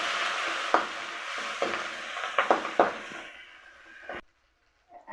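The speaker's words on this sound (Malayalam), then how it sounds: "ഇനി അതിലേക്ക് നമുക്ക് ഇഞ്ചി വെളുത്തുള്ളിയും ചതച്ചത് ഇട്ട് കൊടുക്കാം." Crushed ginger, garlic and green chillies fry in hot oil for a bitter gourd pickle, a steady sizzle broken by several sharp stirring scrapes before the sound suddenly cuts out.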